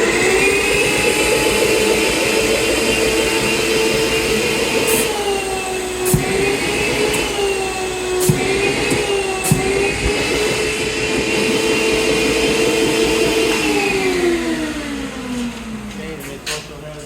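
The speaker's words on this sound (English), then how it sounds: "we also have a vacuum for the vacuum system, which we'll show first on the vacuum system" A loud, steady mechanical whine of the vacuum motor on a Ceco dry cleaning steam press runs continuously, with a few sharp clicks and a slight pitch drop near the end.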